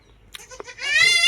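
Small thumps and a short grunt lead into a loud, close, quavering bleat from a goat among goats and kids, rising at the end.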